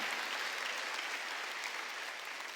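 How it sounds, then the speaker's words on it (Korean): A church congregation claps during a sermon, a dense, even roar of many hands heard from a distance, quiet but continuous and fading slightly toward the end, with no voices on top. "뜻 있는 자들이 하나님을 감동시켜서 해방된 걸 믿으면 박수 치며 다시 산 걸 믿으면 박수 치라 이게야"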